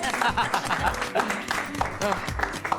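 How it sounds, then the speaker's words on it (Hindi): Audience applause fills the whole stretch, a steady wash of clapping with voices talking over it throughout. "तालियां दोनों के लिए।"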